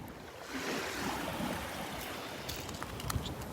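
Waves break on the beach at Delnor-Wiggins around the corner of a sandbar ridge, a steady surf wash with soft, scattered splashes and no talking.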